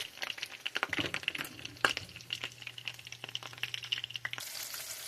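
Second batch of chicken frying in oil in a home kitchen, a steady close sizzle with scattered pops and stirring clatter running throughout.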